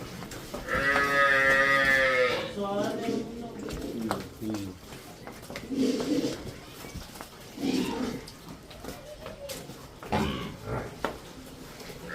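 A buffalo at a farm gives one long, loud, drawn-out moo near the start, followed by people talking nearby.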